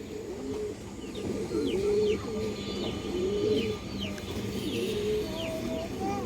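Several full ring-eyed pigeons coo repeatedly at close range, their low rolling calls overlapping in a steady rhythm, with faint chirps and light background noise around them.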